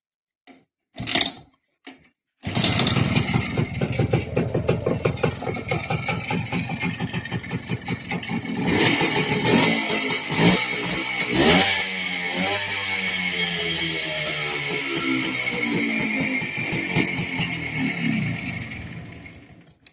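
A PACCO engine running after carburetor screw adjustment starts after a couple of brief attempts, then idles loudly and steadily nearby with a few revs in the middle.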